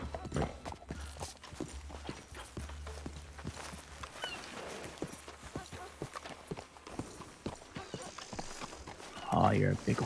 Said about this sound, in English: Oh, you're a big horse.